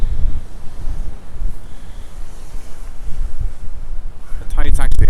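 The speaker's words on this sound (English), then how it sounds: "A lot of waves are kind of coming over" Waves surge over a harbour pier at Anstruther under heavy wind, a continuous rough roar of water and gusts buffeting the microphone, with a brief voice near the end.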